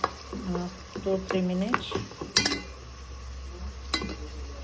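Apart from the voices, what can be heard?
stirring tomatoes frying in a pan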